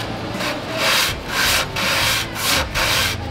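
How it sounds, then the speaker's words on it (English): Rhythmic back-and-forth rubbing of sandpaper on a wooden ridge to remove glue, four or five strokes in a steady cadence, close and fairly loud, in a high school robotics workshop. "Sanding. Sanding what? This ridge."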